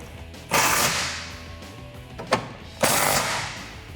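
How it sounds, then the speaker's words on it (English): A 13 mm socket wrench tightening a nut on a Jeep Gladiator exhaust gives a few quick ratcheting bursts up close, with pauses between them. "I'm going to tighten this nut down with my 13 millimeter socket"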